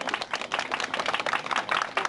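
A crowd claps steadily and densely at an outdoor protest rally against restarting the Ohi nuclear plant, held in front of the Prime Minister's residence. The dense clapping carries on for the whole short stretch at an even level, with no voices standing out.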